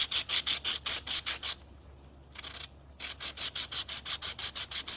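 Rhythmic rasping strokes of a TailWell cutter being honed backwards and forwards, quick even passes in two bursts separated by a short pause, close and fairly loud with no talking.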